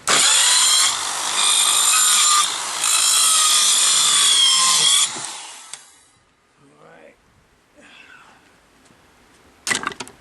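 Power saw cutting a wooden lattice porch panel, a loud bright rasping buzz for about five seconds with brief dips, then winding down to quiet, a few faint handling noises and a short burst at the end.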